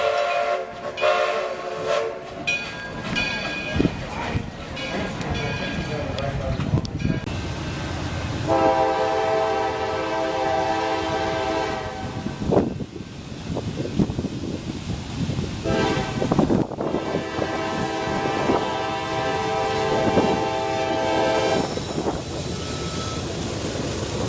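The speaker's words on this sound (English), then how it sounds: "This train was I-150, a northbound intermodal from North Baltimore, Ohio to Detroit, Michigan, with a single AC44 leading." A northbound intermodal freight train led by a single AC44 locomotive rumbles past up close while its horn sounds in several long, loud blasts over the rolling clatter of the wagons.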